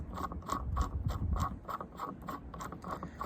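A power steering pulley puller is wound down by hand on a Chevy 6.5L diesel, giving a steady run of about a dozen evenly spaced ratcheting clicks close to the microphone with no talking.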